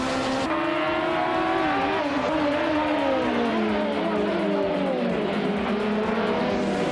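Race cars roar through a video game race, engines whining continuously at high pitch while revving and shifting, the tone rising and falling as cars jostle for position, loud and steady throughout.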